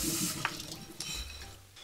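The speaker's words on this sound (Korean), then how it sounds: "이 정도면 요거 깨끗이 수돗물에 가서 씻어 가지고 갖고 오겠습니다" Broccoli is rinsed under running tap water in a kitchen sink, with a faint, steady splash of flowing water and a few soft clunks as it is handled.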